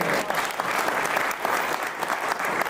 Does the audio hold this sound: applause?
yes